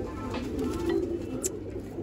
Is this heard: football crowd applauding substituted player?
no